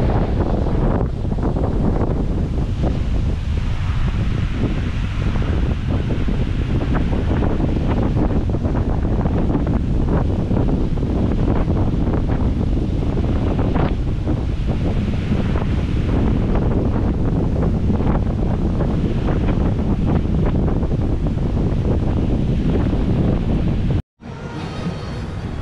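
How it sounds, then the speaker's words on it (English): Strong wind roars steadily over a beach in the Riviera Maya during stormy weather, with surf washing beneath it, loud and continuous wind buffeting on the microphone, cutting out abruptly near the end. "Beach was just a little bit too windy"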